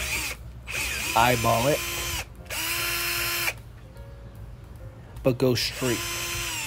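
A handheld power drill with a quarter-inch bit whirs in several short bursts while installing a bumper plug, revving up and down, with a person talking between and over the runs.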